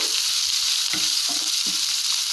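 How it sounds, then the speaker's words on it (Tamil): Chopped ingredients for Chettinad kara kuzhi paniyaram tossed into hot oil in a pan, a steady close sizzle with a few soft stirring scrapes, no voices. "நம்ம கட் பண்ணி வச்சுருக்கிறது எல்லாத்தையும் இதில் சேர்த்துடுறேன் சேர்த்துட்டு இந்த எண்ணெயிலேயே ஒரு தடவை அப்படியே மிக்ஸ் பண்ணி விட்டுருங்க"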